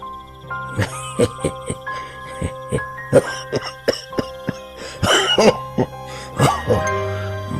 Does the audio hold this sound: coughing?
yes